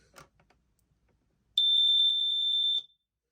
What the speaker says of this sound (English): This one does sort of a very, very, very rapid paced beeping.